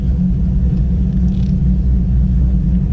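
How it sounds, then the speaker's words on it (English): Heavy low rumble from a cammed 2SS Camaro V8 idling with a bad clutch chatter, a dense, steady throb close by with no pauses and no voices. "I hear the clutch chatter like pretty bad."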